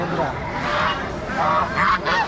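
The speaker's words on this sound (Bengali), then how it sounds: "বন্ধুরা দেখতে পাচ্ছেন এই যে রাজহাঁস" Geese at a rural livestock market honk loudly and repeatedly, overlapping nasal calls in uneven bursts close by.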